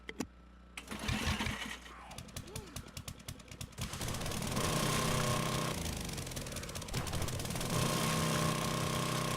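An auger digging through ground in the zombie survival game 7 Days to Die: a loud, rapid mechanical rattle that starts in short bursts, then settles into a sustained grinding whine near the listener.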